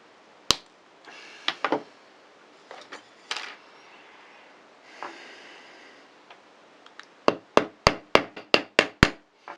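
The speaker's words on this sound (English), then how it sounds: "and then we hammer it flat" Scattered handling noises and taps, then a quick run of sharp metallic hammer blows near the end, striking a silver buckle rivet flat against a steel block.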